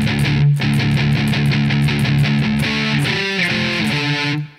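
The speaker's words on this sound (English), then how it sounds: "the next part is going to be almost all open notes." A distorted electric guitar plays the open-note section of a song, fast loud chugging on low open strings that shifts to ringing chords near the end, with no one speaking.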